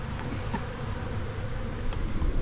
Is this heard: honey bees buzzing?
yes